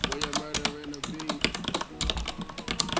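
Fingers type quickly on a computer keyboard, a rapid close run of clicky keystrokes with brief pauses, while someone talks over it.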